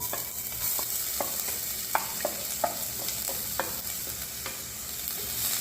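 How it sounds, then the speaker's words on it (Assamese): Finely chopped onions sizzle steadily in hot oil while a spatula stirs them, scraping against the pan in a loose, repeated rhythm, close and fairly quiet. "এতিয়া এইখিনি ধুনীয়াকৈ অলপ গল্ডেন কালাৰ অহালৈকে ভাজি ল'ম।"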